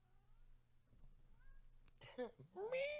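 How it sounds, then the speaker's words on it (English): A pet cat meows a couple of times inside a car, the calls rising and falling, fairly close and clear against low engine hum, with some faint speech around them. "I love my kitty cat."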